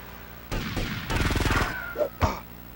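Gunfire in Grand Theft Auto: Vice City Stories on PS2, a loud burst of rapid shots followed by two sharper single bangs, with no talking.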